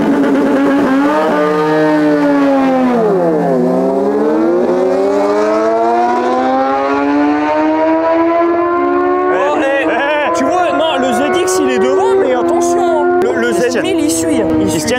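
A Suzuki SV 1000S motorcycle at a race between cars and bikes, its engine wailing loud and close as the pitch dips, then climbs steadily through a long high rev run, with talk underneath.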